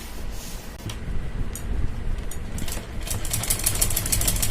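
A sewing machine hums and rattles as it stitches a fabric strip onto a kurti neckline, with a steady motor drone and bursts of faster clattering toward the end.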